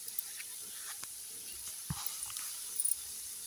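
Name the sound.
chopped tomatoes frying in a pan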